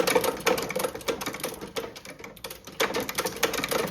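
An antique cobbler's stitching machine from an old Doncaster shoe repair shop runs in a rapid mechanical clatter, with bursts of stitching that pause briefly and then resume, close and fairly loud.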